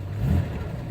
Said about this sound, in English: let me give it a little throttle here